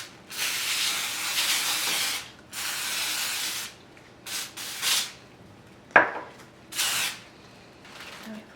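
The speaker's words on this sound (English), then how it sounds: "spray it and flip it over" Several bursts of aerosol cooking spray hiss onto dough, each lasting about a second, separated by short pauses and a brief knock or clatter.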